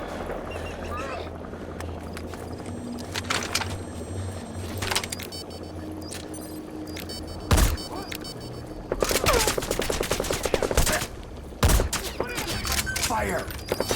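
Gunfire bursts in Metal Gear Solid V: The Phantom Pain, loud volleys and rapid automatic fire clustered around the middle and end, over a steady engine-like drone with some voices.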